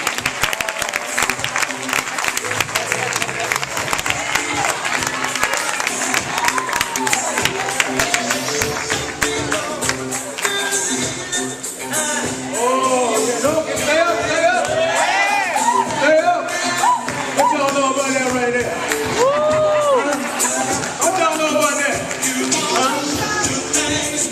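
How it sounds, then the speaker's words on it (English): A lively crowd applauds, cheers and whoops to welcome Bryant Huff, loud continuous clapping with shouts and high voices rising over it, and talking mixed in throughout. "y'all give a round of applause for your feet and welcome Bryant Huff"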